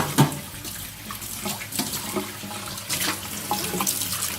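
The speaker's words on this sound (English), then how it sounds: "It's just as simple as cleaning them out with a simple rinse." Running tap water splashing as bowls are rinsed in a sink, a steady close stream with irregular clinks and splashes throughout.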